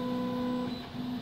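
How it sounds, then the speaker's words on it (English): A 3D printer's stepper motors hum steadily as the print head moves under Wii Nunchuk joystick control, giving a continuous tonal whine close by with a slight dip near the end. "let me now control this 3D printer's movements just using a simple joystick"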